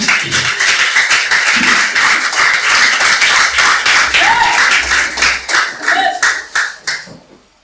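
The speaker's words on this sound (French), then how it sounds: "Acclame pendant que tu t'assois." A church congregation at a Sunday worship and praise service claps loudly in a fast, fairly even rhythm, many hands together, then thins out and fades near the end.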